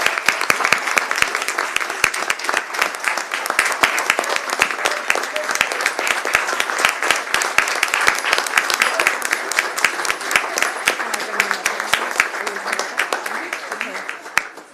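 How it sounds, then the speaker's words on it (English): An audience at a city council chambers meeting applauds Special Olympics athletes with dense, continuous clapping that stays steady and fairly loud for about fifteen seconds before tapering off at the end. "Let's give them all a round of applause"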